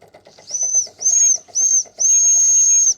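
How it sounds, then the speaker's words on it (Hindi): An old steam train whistle from a small steam engine sounds in four shrill, sustained high toots, the last one longest, loud and close over a rapid chuffing rhythm. "ट्रेन की जो पुरानी सीटी है,"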